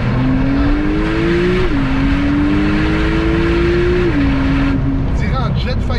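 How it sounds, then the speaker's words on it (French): A 900-horsepower all-wheel-drive Porsche accelerates hard with a loud, steady engine note that rises, dips at a gear change, then climbs again, heard from close by inside the car. "On dirait un jet fighter la voiture."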